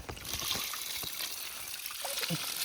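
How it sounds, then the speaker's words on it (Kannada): Water trickles and gurgles steadily into a hole in untilled soil on a banana farm, a close, continuous pour with faint voices in the background. "ಇಲ್ಲಿಗೆ ನೀರು ಹಾಕೋಣ"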